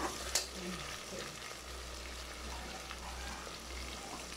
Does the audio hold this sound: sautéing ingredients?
yes